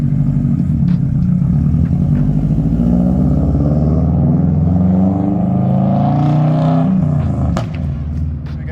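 A Subaru WRX fitted with Tein Flex adjustable coilovers drives by, its engine a loud, steady low rumble that swells slightly mid-pass before easing off, with no speech.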